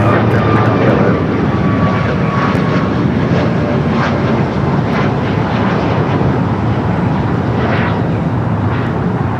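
An airliner takes off from runway 25 right at LAX, its engines a loud, steady, broad roar that holds unbroken from start to finish.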